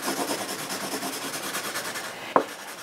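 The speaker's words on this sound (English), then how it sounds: "I can take my handy dandy blending stick." A blending stick rubs across a drawing in quick, soft, rhythmic strokes, heard close and faint. A single sharp tap comes near the end.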